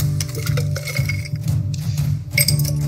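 Ice cubes clink and rattle against a glass as a whiskey cocktail with Benedictine is stirred, a close, bright, irregular jingling that runs throughout.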